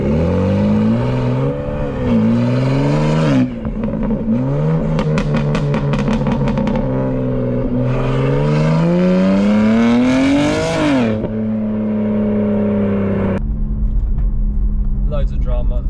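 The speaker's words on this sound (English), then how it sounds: "Loads of drama, loads of noise, just what you want from a performance tuned car." BMW M3 G81, stage 2 tuned to roughly 700 bhp with a custom exhaust, revving hard in loud repeated climbs and drops, with crackling pops between pulls and a settling idle near the end.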